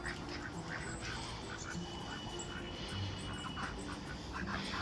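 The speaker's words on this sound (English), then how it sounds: "We interrupted a duck meeting." Ducks quacking at a city farm by the water, a low, busy chorus of calls in the background beneath steady outdoor noise.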